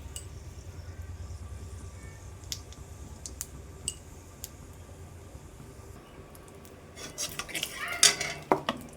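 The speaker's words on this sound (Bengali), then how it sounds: "জিরে আর তেজপাতা দিয়ে দিচ্ছি।" Cumin seeds and bay leaves dropped into a little hot oil in a wok, where cauliflower and potatoes were fried beforehand, set off a building sizzle and crackle in the last couple of seconds, after quieter clinks and scraping of utensils.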